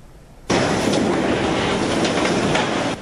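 A small sugar cane train at the Huwei sugar factory of Taiwan Sugar Corporation rumbles past close by, its wheels clattering in a steady, loud roar that starts suddenly and stops sharply.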